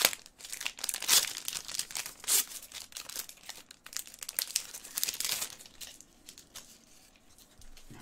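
A Golden Age trading card pack wrapper being torn open, crackling and crinkling loudly at close range in dense bursts for several seconds before tapering off into quieter rustling.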